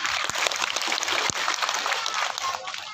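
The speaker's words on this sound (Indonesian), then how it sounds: "Tepuk tangan dulu dong." An audience claps steadily at a religious gathering led by a preacher, a dense broadband patter of many hands that stays fairly even for the whole stretch with no voice on top.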